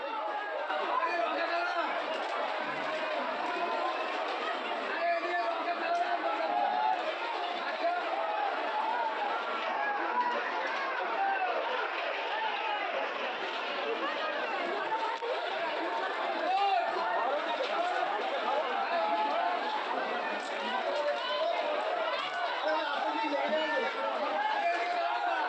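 A dense crowd of devotees fills a Kali Puja temple with a steady, continuous hubbub of overlapping voices and chatter, loud and unbroken throughout.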